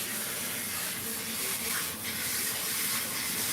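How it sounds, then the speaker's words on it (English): Water runs continuously from a tap in a grooming setting while a Persian cat is bathed, a steady, even hiss with no talking. "so when you wash your pet, you're gonna use water"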